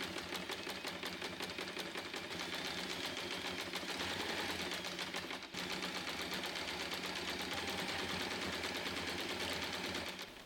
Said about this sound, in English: Open each corner and sew across the corners to create the box shape.